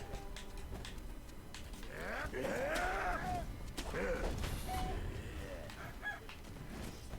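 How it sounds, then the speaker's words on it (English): A chicken clucking and squawking in the video game Sekiro, several rising and falling calls over game sound effects, fairly faint in the mix. "Fuck off, chicken."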